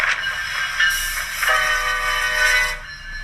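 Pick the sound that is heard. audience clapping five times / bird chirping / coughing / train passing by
train passing by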